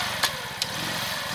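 A Masai Greystone motorcycle idles in neutral with a steady low engine drone, two short sharp clicks or puffs rising briefly above it.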